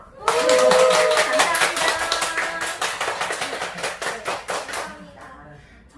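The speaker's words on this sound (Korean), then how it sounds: "김희아 본부장님께 각자 핸드폰 속에서 박수 한번 드려볼까요?" Applause from an audience at a Korean talk concert, thanked after a one-hour Q&A: dense, sustained clapping that starts abruptly, stays loud, then thins into scattered claps, with a brief spoken thanks near the end.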